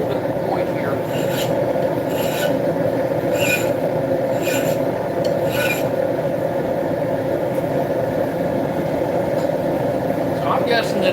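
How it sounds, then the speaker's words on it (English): Flat file rasping along an imported Damascus steel blade in a workshop, a series of short scraping strokes repeating every second or so, moderately loud over a steady background hum and some speech. "Take a flat file because I got a little bit of a point here."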